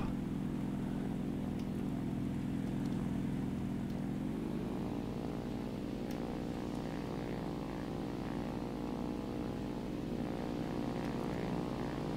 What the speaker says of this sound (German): das ist schon ein richtiges Flugzeug, das ich hier fliege